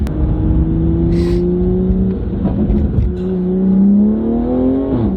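A downpipe-tuned BMW M340i engine pulls hard and loud, its pitch climbing steadily through the revs with a brief dip as it shifts, heard close from inside.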